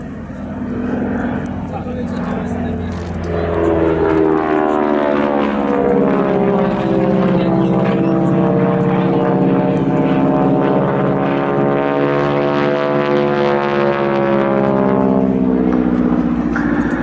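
A North American AT-6D Texan/Harvard III propeller trainer flies past at an air display, its loud droning radial engine rising and holding steady with a shifting pitch as it passes, while a narrator speaks over it.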